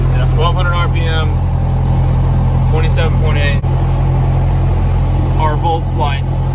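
Cessna 172 piston engine running steadily at 1,200 RPM, a constant loud low drone heard from inside the cockpit, with voices talking over it at intervals.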